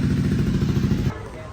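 A motorcycle engine runs at a steady low idle close by, its rumble cutting off abruptly after about a second, leaving only quieter background noise.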